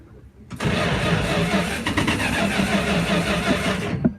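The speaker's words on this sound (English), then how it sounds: "Still having a hard time getting it cranked." A V8 engine with a two-barrel carburetor cranks hard and struggles to start, a loud continuous churning starter-and-engine roar that begins suddenly near half a second and runs about three and a half seconds before cutting off, heard up close.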